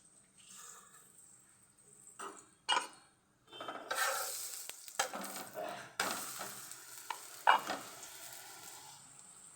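Methi thepla, a Gujarati flatbread made from mixed flour, roasting in ghee on a pan, with soft sizzling broken by clattering as it is pressed down and flipped with a spatula.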